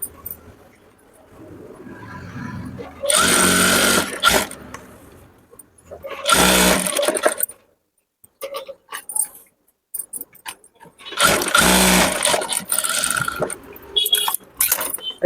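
Sewing machine running in bursts while stitching dummy stitches on a chudidar top, three loud stretches of rapid mechanical whirring separated by quieter gaps with small handling clicks.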